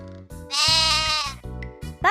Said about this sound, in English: A sheep makes a baa sound.